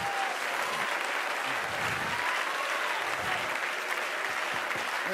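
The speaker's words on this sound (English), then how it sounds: "Oh, clap your hands unto the Lord." Congregation clapping hands at a church sermon event, dense continuous applause filling the whole moment, loud and close, with faint voices mixed underneath.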